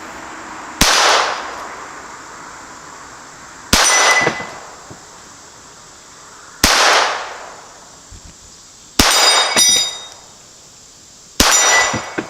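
Five sharp Ruger SR22 pistol shots with CCI Quiet ammunition fired toward a 25-yard target, each a crisp crack with a brief ringing tail, spaced a few seconds apart.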